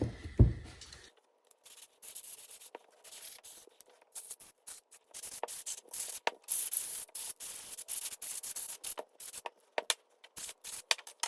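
A loud thump, then a long series of short bursts of aerosol cleaner spraying onto the carburetor jets of a 2020 KTM 250SX's Mikuni TMX 38, hissing in quick irregular pulses, close by.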